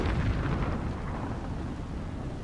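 A cannon shot booms in a strategy video game match, a heavy deep blast with a rumbling tail that fades slowly across a couple of seconds.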